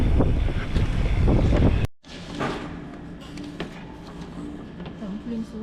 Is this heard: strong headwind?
yes